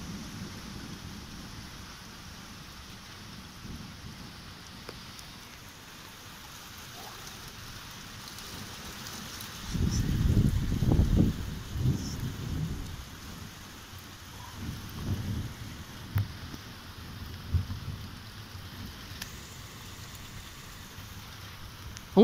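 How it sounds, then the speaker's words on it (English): A thunderstorm over a bay on the Somerset coast, with steady rain and a loud roll of thunder swelling midway, then fainter rumbles fading out. "I won't go to bed till this storm finishes."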